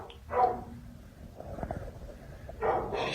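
A dog inside an abandoned building gives two sharp barks set apart by a stretch of low whimpering and rustle, fairly close and echoing, with no voices.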